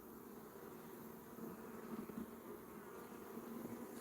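Honey bees buzz in a dense, continuous drone at an open beehive, the hum steady and close with no voices.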